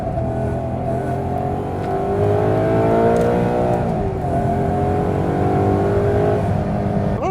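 A Maserati's engine revs hard and accelerates in steady pulls, rising and falling in pitch as gears change, heard close and loud from inside the car with no talking.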